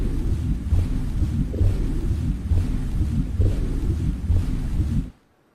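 Looped submarine interior effect for film, built partly from a splash captured by an overhead microphone: a steady low rumbling wash with soft rhythmic swells repeating about once a second, then cutting abruptly to silence near the end.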